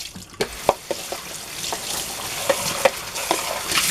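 Dishes are rinsed under running water at a sink, with a continuous splashing hiss broken by sharp clinks and knocks, close and fairly quiet.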